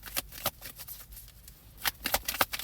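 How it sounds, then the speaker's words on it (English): Tarot cards are shuffled by hand in a series of short, crisp riffling bursts with quiet gaps between them, close and moderately loud with no talking. "listen to me shuffle"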